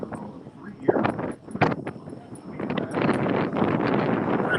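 Gusty wind buffets the microphone outdoors at a theme park, a rough rumbling rush that swells louder toward the end, while a person talks over it.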